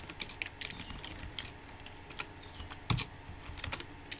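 Close, steady typing on a computer keyboard while HTML code is written, with uneven bursts of key clicks and one heavier keystroke near the end.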